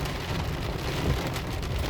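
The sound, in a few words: rain falling after hurricane Dorian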